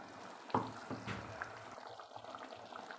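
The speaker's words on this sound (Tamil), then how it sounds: "நல்லா கொதி வருது இப்போ ஆஃப் பண்ணிடலாம்" Soft bubbling of a thick lentil-dumpling curry simmering in a pot, quiet and close, with a couple of small clinks near the start.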